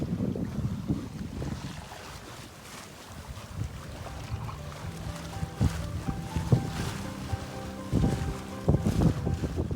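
A sailboat under way on a broad reach, with steady wind rushing across the microphone, water washing along the hull and occasional knocks and creaks from the rigging.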